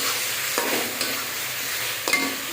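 Mixed vegetables sizzle steadily in a hot pan during stir-frying, with broadband frying hiss and a few louder bursts as the food is stirred and tossed. Close and continuous, with no speech.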